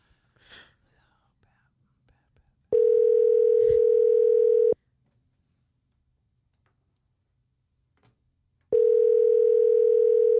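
A telephone line gives two long, steady electronic tones separated by a quiet pause, heard close and clear, as a call rings through to voicemail, with a brief murmur of voices early on.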